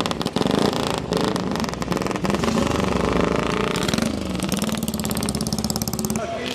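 An old motorcycle engine revved hard, a loud gritty roar that holds steady and rises in pitch, close by, with someone talking over it in German.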